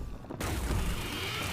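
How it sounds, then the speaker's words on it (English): Hellfire weapon firing in the VR game Crashland, a sustained loud, dense burst of energy fire that starts abruptly after a brief quiet moment and keeps going without pause. "Hellfire is probably one of the best weapons in this game"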